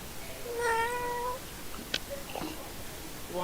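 A person imitates a cat's meow with a drawn-out, wavering mew, clear and close. A short click and faint sounds follow, with no talking over it.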